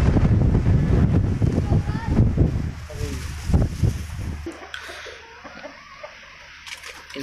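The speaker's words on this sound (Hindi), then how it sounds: "काफ़ी तेज़ हवा चल रही है।" Strong wind rumbles loudly against the microphone outdoors in heavy gusts that ease off midway, with a voice speaking and faint bird or animal calls in the background.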